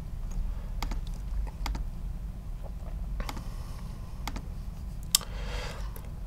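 Scattered, irregular keystroke clicks on a computer keyboard as a password is entered, quiet and fairly close over a steady low hum, with a few sharper taps standing out.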